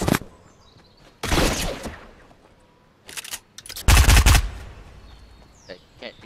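Gunfire in the video game Fortnite comes in several loud, rapid bursts separated by quieter gaps.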